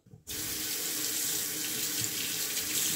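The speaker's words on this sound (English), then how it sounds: "you can just rinse it off, let it dry out" A tap suddenly turns on and runs water steadily over a cleaning tool being rinsed, a loud continuous splashing rush close by.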